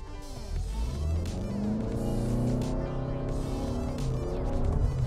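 Toyota RAV4 hybrid SUV engine pulling under acceleration from inside the cabin, a steady droning hum with slowly rising tones and constant road rumble, no voices.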